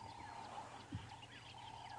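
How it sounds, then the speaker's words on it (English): Dawn chorus at sunrise on an African safari: doves, red-billed buffalo weavers, starlings and an oriole trill and call faintly in the distance over a steady low hum of open bush. "maybe you can hear now the sound of the dawn chorus starting to build."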